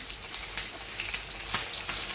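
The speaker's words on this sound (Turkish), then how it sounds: "Onu kızartıyorum şu anda." Chicken pieces fry in a pan with a steady, fairly quiet sizzle and a few sharper crackles.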